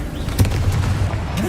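In Hogwarts Legacy, the Bombarda spell goes off as a sudden booming blast, loud and close, followed by rumbling impacts and crackling debris.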